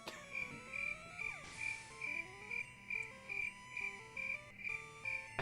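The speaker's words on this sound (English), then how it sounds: "Fine, I'll give you a cricket sound effect." A cricket chirping sound effect repeats in an even rhythm, a high trill pulsing about twice per second over soft electronic game music.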